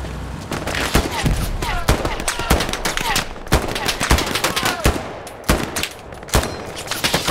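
Dense gunfire in the World War II game Hell Let Loose: rapid rifle and machine-gun shots crack loudly in irregular bursts throughout, with a voice faintly under the firing.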